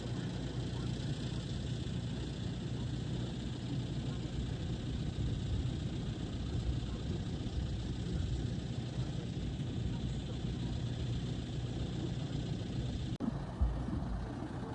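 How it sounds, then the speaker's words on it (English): A low diesel engine of a John Deere 6105E tractor idles steadily for a long stretch, a constant rumbling drone with a brief knock near the end. "The tractor we have is the John Deere 6105E"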